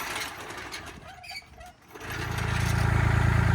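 A tractor engine, used with a floor jack to lift the front end of an F100 truck during a Crown Vic front end swap, rumbles up to a steady, loud idle after someone speaks.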